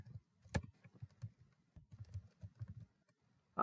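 A computer keyboard is typed on close by in a quiet room, with a quick irregular run of soft key taps and one louder clack near the start.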